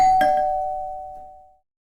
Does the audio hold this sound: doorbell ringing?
yes